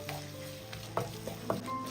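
A soy sauce and vinegar mixture sizzles softly in a hot pan while a utensil stirs it, giving a few light scraping clicks over a steady quiet frying hiss.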